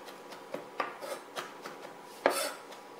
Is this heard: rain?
no